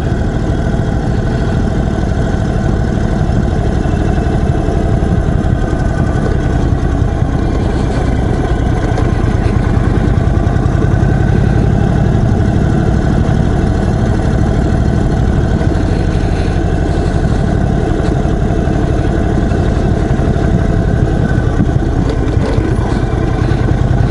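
A 2021 Indian Chief Dark Horse, a large custom motorcycle with a long-stroke engine, idles steadily and close by, a continuous low rumble that holds even for the whole stretch with no voices.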